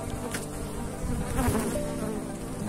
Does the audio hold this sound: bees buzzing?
yes